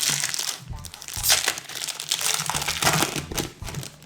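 Foil wrappers on basketball trading card packs crinkle and tear as they are ripped open, with a close, continuous rustling that rises and falls over a few seconds.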